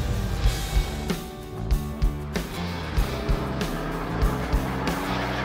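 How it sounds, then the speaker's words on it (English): A custom-built supercar drives along, its engine giving a loud steady drone with rhythmic thumps and surges, heard up close without talk. "This car's driving great."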